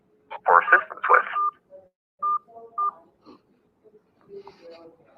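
An automated municipal phone menu plays under a recorded voice, with a few short, clean keypad dialing beeps heard in a brief sequence.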